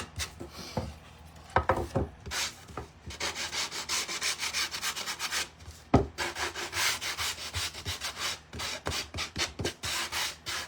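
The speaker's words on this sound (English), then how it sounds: "we're just gonna sand these edges real quick" Sandpaper rubbed by hand along the wooden edges of a standing Santa craft kit, a steady close scratchy rasp in quick back-and-forth strokes with brief pauses.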